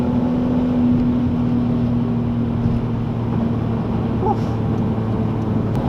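A BMW E46 M3 cruises on the highway, a steady engine drone and road noise holding at an even level throughout, with a constant low hum and no one talking.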